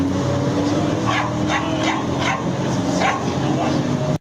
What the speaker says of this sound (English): what kind of damn dog is this?